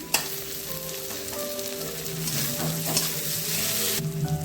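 Onion and chopped tomato fry in hot oil for a hilsa fish curry, a close, steady sizzle with occasional stirring scrapes and a small clatter at the start, no voices.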